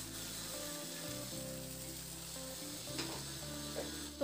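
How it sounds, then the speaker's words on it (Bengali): Spice paste frying in a pan on a low gas flame, with steady sizzle and light scraping from stirring, continuous and close, no talk. "তো মশলাটা দিয়ে মিনিট 2-3 মতো একটু নাড়াচাড়া করে নেব খুব ভালো করে।"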